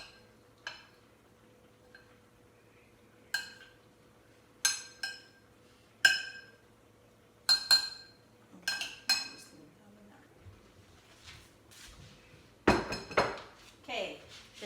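A spoon stirs cumin and coriander in a bowl, giving a string of scattered clinks against the dish with quiet gaps between them and a brief burst of scraping near the end.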